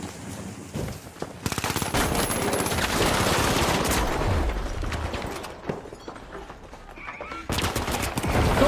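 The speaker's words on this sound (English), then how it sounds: "I didn't see the turret until it was already firing at me" A turret in the shooter game The Finals fires on the player, a long dense burst of rapid automatic gunfire that fills the scene loudly, with gaps and a second burst near the end.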